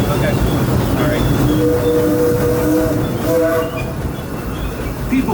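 The Disneyland Railroad steam train rumbles along its rails with a loud, continuous rolling clatter and wheel squeal, and a few sustained whistle-like tones ring out over the steady noise of the moving cars.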